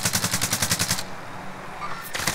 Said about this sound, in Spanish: Nos disparan de la casa de frente